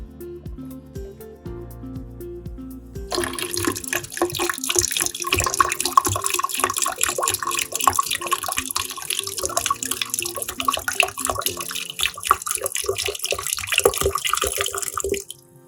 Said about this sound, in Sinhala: මේක අපේ වතුර වලින් දැන් පුරවමු.